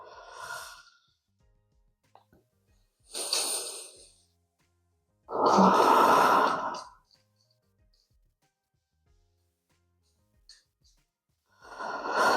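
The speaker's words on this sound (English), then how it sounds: "Let's take 3 breaths here." Deep, slow breaths during a yoga pose, several audible exhales and inhales spaced by quiet pauses, close and breathy, with one long, strong sighing exhale in the middle.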